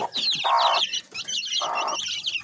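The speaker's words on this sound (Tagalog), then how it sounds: "nagiwawala na itong ating mga sisiw rito" Chicks in a coop making noise, rapid high cheeping and peeping with two louder clucking bursts from nearby poultry, busy and close, with no talking.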